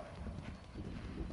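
Horse hooves pound steadily on the cross-country course of a one-day eventing competition, a continuous run of dull, close thuds without speech.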